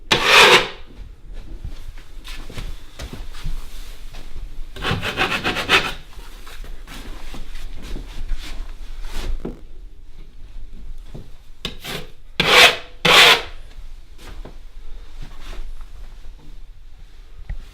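Putty knife scraping drywall mud off a wall during drywall repairs after wallpaper removal, a series of raspy strokes, several loud bursts among softer, quicker scrapes over a faint steady background, close by, no speech.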